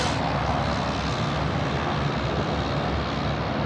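A UPS cargo jet taking off from runway 34 left at Sydney Airport at night, a steady, powerful engine roar that fills the air with broad rumbling noise, heard continuously from a distance without talk.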